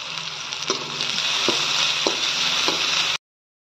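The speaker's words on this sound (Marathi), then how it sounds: "आपली लसूण अद्रक बी छान फ्राय झालेली आहे।" Garlic and ginger paste frying in hot oil, a loud, even hiss up close with a few soft taps of a spoon against the pan before it cuts off abruptly.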